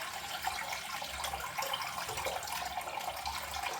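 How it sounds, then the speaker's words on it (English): Tap water runs steadily into a bathroom sink while a shaving brush soaks, a continuous close splashing hiss with no talk over it. "Some water in the sink."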